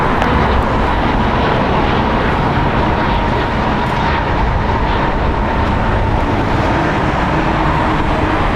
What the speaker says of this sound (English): Air Canada Flight 553 going to Vancouver. Boeing 737 MAX 8, 4 years old.